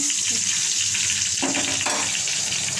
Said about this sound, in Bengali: রসুন, শুকনো মরিচ একটা, সরিষা দিয়ে দিলাম। এটা ভেজে নিয়ে